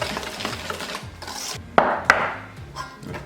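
A spoon stirs yogurt cake batter in a bowl up close, giving soft rhythmic scraping and rubbing strokes with two sharp clinks of spoon against the bowl partway through.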